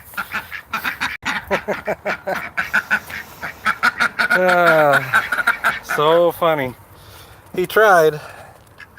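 A female duck quacks in loud repeated bursts at close range outdoors, her calls coming in quick runs under and between a person's talk.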